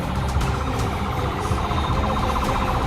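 An ambulance siren wails steadily in a continuous warbling pattern, moderately loud and sustained, with a busy background of street noise and no talking.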